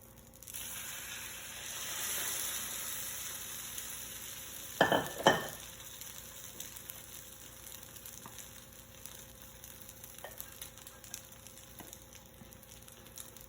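Mickey Mouse shaped French toast sizzles quietly in a pan, a soft steady frying hiss broken by a couple of brief louder clatters partway through.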